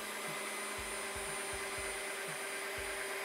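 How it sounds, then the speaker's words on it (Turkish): A Dreame H12 Pro self-cleaning wet vacuum runs with a steady broadband whir and faint motor tone, punctuated by soft regular low thumps as it moves over the floor. "Duydun mu? Süpürgenin modu değişti."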